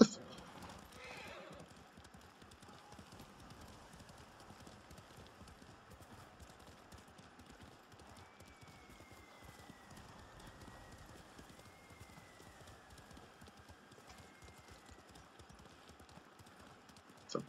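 A horse's hooves clip-clop at a steady walking pace in the Ghost of Tsushima video game, faint and continuous under quiet game ambience, with a brief rustle near the start.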